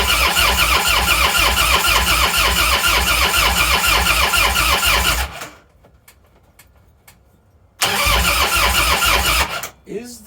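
An old Harley motorcycle with a new battery cranks loud and fast in a steady rhythm for about five seconds without catching, goes quiet briefly, then cranks again before cutting off.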